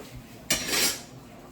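A metal lid set half over a pot of simmering shrimp beetroot soup gives one clear clink and a brief scraping rattle, close by, against a low steady background hiss.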